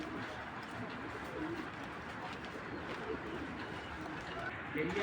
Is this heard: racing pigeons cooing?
yes